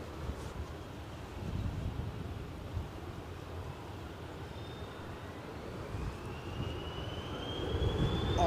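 A plane's engine hums and whines during takeoff at Edinburgh Airport, a distant low roar mixed with gusty wind noise, with a faint rising whine emerging toward the end.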